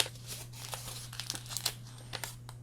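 A wax-sealed fan-mail envelope, tea or coffee stained, being handled and opened with close, steady paper crinkling and a few sharp crackles and tears, quiet over a faint low hum.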